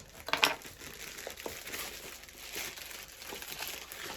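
Plastic bag crinkling and rustling up close as it is handled and unwrapped, with a sharper crackle early on followed by softer, intermittent crinkles.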